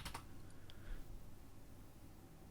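A few quick, faint keystrokes on a computer keyboard open the stretch, then fade into a low background hum.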